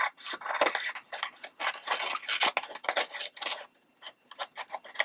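Scissors trimming a magazine paper cut-out for a collage craft, producing close, crisp rasping snips and paper rustles in rapid irregular bursts.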